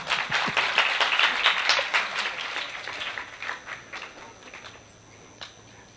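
Applause from an audience at a Jain religious discourse, a burst of many hands clapping that is strongest at first and then thins into scattered, fading claps.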